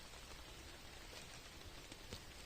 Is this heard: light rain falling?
yes